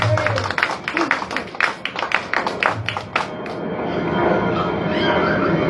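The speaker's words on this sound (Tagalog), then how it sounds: "Ganyan po ba kalakas ang palakpak kay El Shaddai?" A church congregation claps in quick rhythmic bursts for about three seconds, then the clapping dies away into a murmuring, roomy hall ambience.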